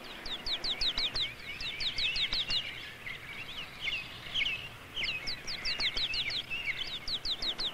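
American birds chirping in quick, repeated bursts of bright, rising tweets, several calls overlapping and pausing briefly before starting again, close and clear over a quiet background.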